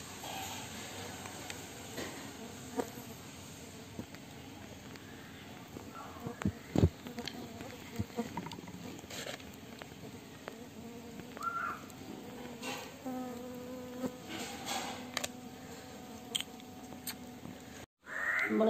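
A swarm of stingless bees hums in a faint, continuous buzz close by, broken by scattered clicks and small knocks, with brief distant bird calls in the background.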